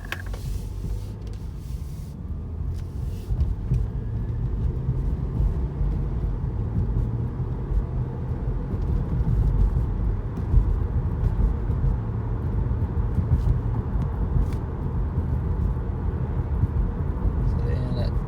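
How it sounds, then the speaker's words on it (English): A 2012 Acura TL with around 200,000 miles accelerating, its engine drone rising steadily and shifting up through the gears inside the cabin, with someone talking over the engine. "it is weird how it will shift very quickly through all gears"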